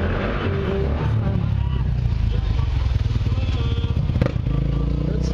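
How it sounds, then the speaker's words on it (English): Road traffic streams past nearby, with steady engine rumble and a motorcycle-like drone that stays loud and continuous throughout. "There's a lot of traffic going past here"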